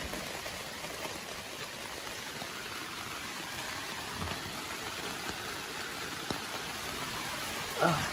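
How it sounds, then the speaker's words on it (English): Heavy rain in New England woods, a dense, steady hiss of downpour on leaves and ground, continuous and enveloping throughout, with a brief louder knock near the end. "Some crazy rain just came in."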